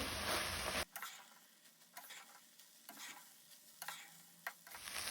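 Prawns fried rice being stirred and tossed in a pan with a spoon, giving repeated scraping strokes over a steady low sizzle, close and fairly quiet with no talk.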